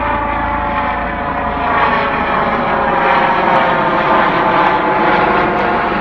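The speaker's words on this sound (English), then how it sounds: "the helicopter's flying right over me" A helicopter flies directly overhead, its steady, loud engine and rotor roar filling the whole stretch with no breaks.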